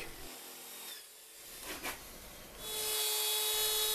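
A drill bores holes into a wooden banjo neck for mounting, with a few short scraping bursts before a steady, bright whirring grinds on loudly through the final second and a half.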